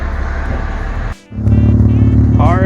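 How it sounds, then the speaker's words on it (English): Mazda RX-7 race cars on a road cruise roll past nearby, with loud engine drones that dip briefly and then swell again as the next car approaches, while voices rise over the top. "RX-7 gang rolling in."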